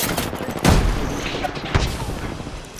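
A few loud gunshot bursts in an Apex Legends Season 14 match with Valkyrie, close and punchy at irregular moments amid a steady background rumble, with game voice lines heard around them.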